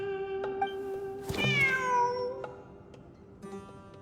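A cat meows inside the Genshin Impact video game during a desert ruins exploration event, one clear drawn-out meow with a falling pitch, standing out near and alone over a soft, steady game backdrop.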